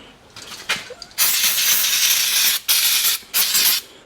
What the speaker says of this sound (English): just cleaning everything down with a bit of brake cleaner